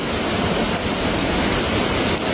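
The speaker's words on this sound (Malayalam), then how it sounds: "ആ കല്ലെല്ലാം മൂടി വെള്ളം കൂടിക്കൊണ്ടിരിക്കുകയാണ്" A monsoon flash flood on the Iravinji river surges over submerged stones, a dense unbroken roar of rushing water close to the microphone, steady and loud with no voices.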